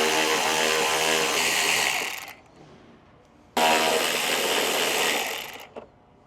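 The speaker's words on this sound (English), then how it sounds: "We're going to use a 10mm socket and we're going to go ahead and loosen them." A power driver with a 10mm socket whirs in two loud, steady bursts, loosening the screws on the factory intake scoop of a Ram with a 6.7L Cummins engine, with a brief quiet gap between them.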